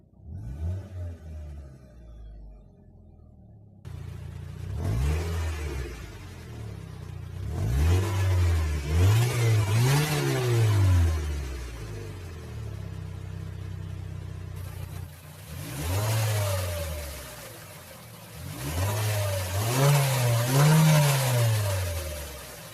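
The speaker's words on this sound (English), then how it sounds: "So let's go ahead, hop inside, do a few revs, and see how it sounds." A 2010 Mazda MX-5 Miata engine revs up several times in separate bursts, rising and falling in pitch, close by with brief idling pauses between.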